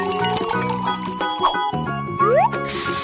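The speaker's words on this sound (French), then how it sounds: "Maintenant, il ne reste plus qu'à tout verser dans la machine et mélanger." Blended blue cheese ice cream mix is poured into an ice cream machine, a short liquid fill under steady background music.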